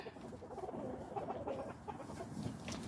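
Several silkie chickens cluck and murmur softly nearby, a low busy chatter of overlapping calls.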